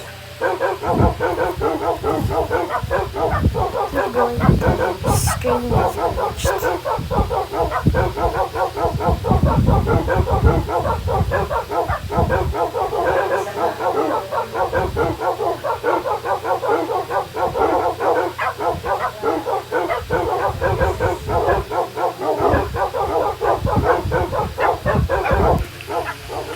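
Many wolves bark and yip in the video game Roblox in dense, rapid overlapping bursts, loud and continuous, with a brief spoken remark mixed in.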